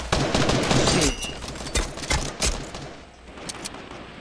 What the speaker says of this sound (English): Is that someone shooting me behind the wall